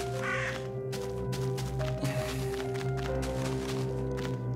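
Crow caws ring out in the Slenderman.exe video game, a few harsh calls close by, heard over a droning background of game music and ambience.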